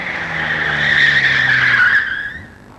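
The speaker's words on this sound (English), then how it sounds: "the driver has applied too much power, and the back of the car breaks away in the turn." Car skidding as too much power makes its rear break away in a turn, a loud drawn-out tyre squeal that swells, holds and then fades.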